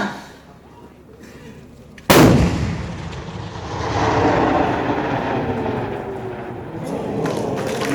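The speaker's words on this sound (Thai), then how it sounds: "ต่อไปใช้ชมการสาธิตนะครับการยิงเล็งตรงต่อเป้าหมายรูปสี่เหลี่ยมบริเวณเนิน 100" A single heavy artillery gun blast booms out during a live-fire demonstration at a target on a hill, followed by a long rolling rumble and echoing reverberation that slowly fades.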